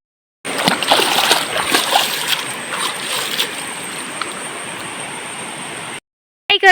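A village river swollen after rain rushes loudly and continuously up close, a dense broadband roar that eases slightly and then holds steady before stopping abruptly.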